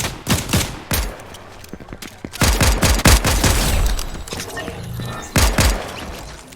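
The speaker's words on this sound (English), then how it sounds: "I got all these guys shooting at me." Gunfire in the Fortnite video game, with rapid bursts and sharp single shots cracking close and loud, plus thuds and impacts, in several clusters with brief gaps and no talk.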